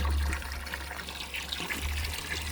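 Water trickles and splashes steadily into a garden pond in an eco-garden, a continuous light pouring sound with a low rumble under it.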